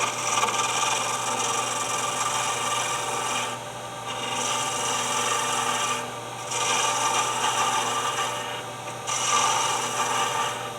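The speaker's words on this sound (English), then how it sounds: "I'm starting at the top and coming down with my skew." Skew chisel shearing a wooden pen blank on a spinning lathe, a steady rasping, scraping hiss that runs continuously with a few brief dips as the cut passes along the blank, close and fairly loud.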